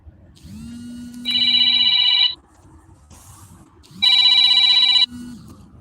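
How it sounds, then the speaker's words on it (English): An incoming call rings on a phone at a camp in Shiprock, New Mexico: two loud electronic ring bursts, each a rising tone followed by a bright trilling ring, separated by a short quiet gap. "Phone call coming in."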